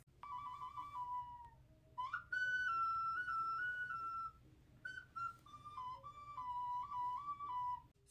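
A small Taino ocarina plays a simple high-pitched melody of sustained, breathy notes with short pauses between phrases.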